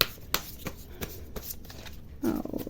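Tarot cards shuffled by hand in a quiet room, a series of soft, quick riffling snaps and slides, close but faint, ending in a slightly fuller rustle.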